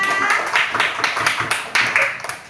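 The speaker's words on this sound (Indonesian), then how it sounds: "Beri tepuk tangan dulu untuk kita semua" A classroom of students claps together after a group activity, a brief burst of uneven, close claps with distinct sharp strikes, fading slightly toward the end.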